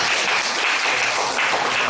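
A church congregation at a Wednesday worship service claps together in a dense, even burst of applause lasting a couple of seconds, loud and close, with no voices over it.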